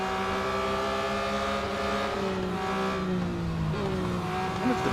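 A Porsche 911 GT3 (2021) engine in the racing game Real Racing 3 drones steadily, its pitch rising and falling through the gears, with a close and continuous tone and no talking.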